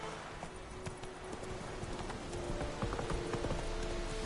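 Horse hooves clip-clopping at a steady trot in the video game Witcher 3, sharp close beats over a soft rain-like background hiss.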